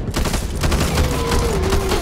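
Rapid, dense gunfire from several weapons in the co-op zombie shooter Back 4 Blood, a loud continuous barrage with no pauses, a rising whine running underneath.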